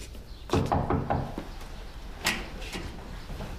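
A door is opened in a quiet house during a TV police drama scene, a few close wooden knocks and clunks of the latch and door, followed by a sharper rattle.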